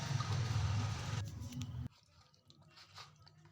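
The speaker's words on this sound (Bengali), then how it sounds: "লোটে মাছটার মধ্যে হলুদ গুঁড়ো, লঙ্কার গুঁড়ো আর সর্ষের তেল দিয়ে ভালো করে একটু মাখিয়ে নেবো আমি" Fresh lotte fish being hand-mixed with turmeric, chilli powder and mustard oil: close, wet squishing and squelching for about two seconds, then a much quieter stretch with faint, scattered handling sounds.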